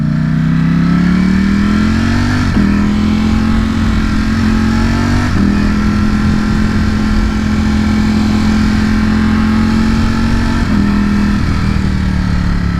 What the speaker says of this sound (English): Sounds very, very similar to a Ducati V4.